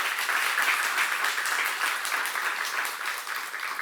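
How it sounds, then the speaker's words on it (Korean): A church seminar congregation clapping together, dense, sustained applause from many hands that carries on steadily and fades slightly toward the end. "이 성경을 우리에게 주신 하나님께 박수 한번 치시기 바라요"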